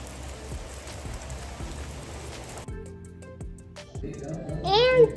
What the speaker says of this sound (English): Ooh, look, it's raining hard.